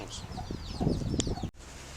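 Chickens clucking close by, a cluster of short busy calls with a brief sharp squawk near the end, followed by a quieter background.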